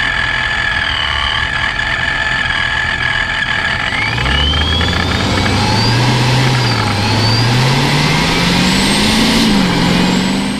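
Procharged, supercharged Dodge Scat Pack V8 running steadily nearby, a loud continuous engine drone with a rising supercharger whine and shifting revs, no talk.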